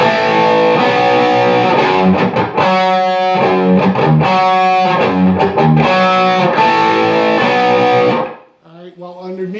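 Heavily distorted electric guitar playing the lead guitarist's part from a song, with loud sustained power chords and riffing that continues without a break before cutting off near the end, followed by a faint trailing sound.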